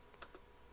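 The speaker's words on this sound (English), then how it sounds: "we'll be typing" Brief keystrokes on a computer keyboard while entering a command on Windows Server, two quick soft clicks close by in a quiet room.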